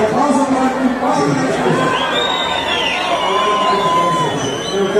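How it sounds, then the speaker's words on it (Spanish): A festival crowd in Mongua, Boyacá cheers and shouts for the mayor, a loud, continuous roar of voices with whistles and scattered yells close around. "por favor, un aplauso para el compadre."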